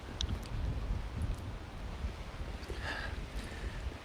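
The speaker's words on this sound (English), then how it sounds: "Oh man, it is windy." Gusty wind blows outdoors near a trail, a loud low rumble buffeting the microphone steadily throughout, with faint rustling and no talking.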